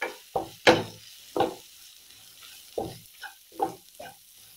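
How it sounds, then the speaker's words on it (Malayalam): Masala with coriander powder being sautéed in oil, heard as a series of separate sharp scrapes and knocks of a spoon against the pan, spaced irregularly with quiet gaps between and a soft sizzle underneath. "നന്നായിട്ട് എണ്ണയ്ക്കകത്ത് വഴലണം, അല്ലെങ്കിൽ ടേസ്റ്റ് കിട്ടാതെ വരും."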